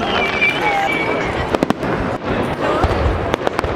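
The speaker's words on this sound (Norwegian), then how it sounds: "Så nå venter vi på at det skal komme fyrverkeri." Fireworks crackle and pop at a May 17 celebration in Norway, with sharp bangs scattered over a dense roar of crowd noise and cheering voices close by.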